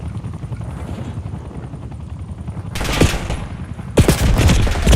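A helicopter in the Call of Duty Warzone video game thrums with a steady, close rotor chop, while sudden bursts of loud gunfire break in twice over the top.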